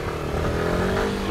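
A scooter engine revs hard and steadily during a wheelie, a loud, close, continuous buzzing drone with no pauses.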